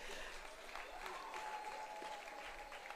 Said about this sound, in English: Again, let's clap so much.